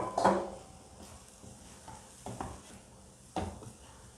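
Plantain being stirred and sautéed with lentils in a pan for a South Indian usili dish, with a few distinct scraping stirs of a spoon against the pan over a faint sizzle, close and fairly quiet.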